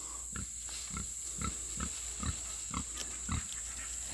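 Steady low grunts repeat about every half second over a constant high electrical whine, nearby, with no talking.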